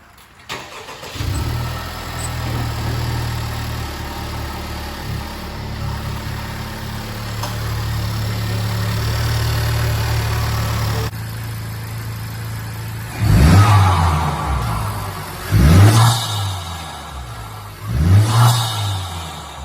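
A Honda Civic Type R (FK8) engine with an aftermarket PRL intake cranks over and catches, then settles into a steady idle before three sharp revs rise and fall, loud and close.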